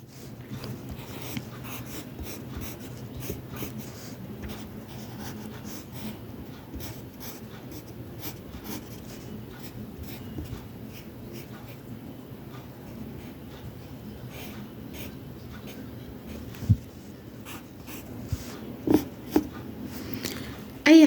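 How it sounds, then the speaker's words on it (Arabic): Pencil scratching over paper during a children's drawing lesson, a continuous soft scribbling texture with quick strokes and taps, close and fairly quiet, with no talk over it. "اهو هنرسم كده حمزة ونرسم صديقه وهو ايه بيديله القلم"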